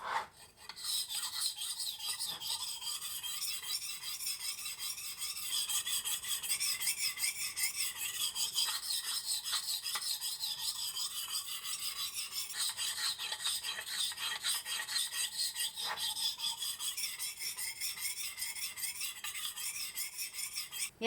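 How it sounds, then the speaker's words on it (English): Knife being sharpened on a metal sharpening stone with a convex grind, a continuous harsh rasping scrape of metal on metal, close and loud, with steady strokes throughout. "this stone is much louder to sharpen, maybe because it's metal on metal."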